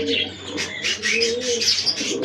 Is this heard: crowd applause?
no